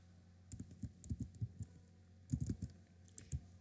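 Someone types a spreadsheet average formula on a computer keyboard in two short bursts of soft, close key clicks separated by a brief pause. The clicks are quiet and no one speaks.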